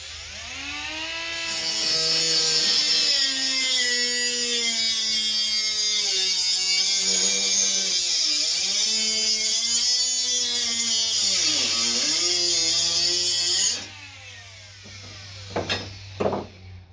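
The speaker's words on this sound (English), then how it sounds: "The ezarc cutoff wheel cuts right through that." A 3-inch Ezarc cut-off wheel grinds through a metal bracket, a loud, steady high-pitched whine with wavering pitch that lasts about twelve seconds before the tool stops and a few clanks follow.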